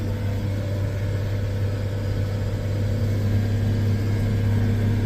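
A vehicle engine runs steadily and loudly in a low, continuous drone, holding at an even idle with only a slight rise toward the end rather than sharp revs.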